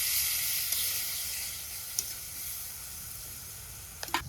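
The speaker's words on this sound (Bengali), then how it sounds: "অল্প জলে মশলাটা ভালোভাবে কষিয়ে নিই।" Spice paste of ground turmeric, chilli and coriander cooking in a little water in a pan, a steady close sizzle and hiss with a few soft clicks of stirring, no voices.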